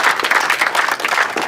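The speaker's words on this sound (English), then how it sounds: "I think you guys deserve yourselves applause." Audience applause at a live character-comedy show, a brief burst of dense, fairly loud clapping from a crowd filling the moment on its own.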